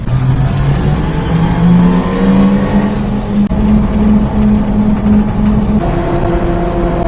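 Engine of a mini-truck drones loudly and close while driving, its pitch rising and falling through gear changes, with a steady road rumble throughout.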